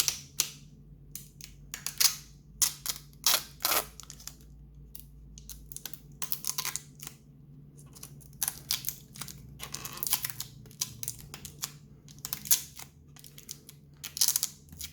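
Protective plastic film is peeled off a new AMD Radeon RX 5700 XT Nitro+ graphics card during unboxing, short crisp crackling rips in irregular bursts close to the microphone, with no talking.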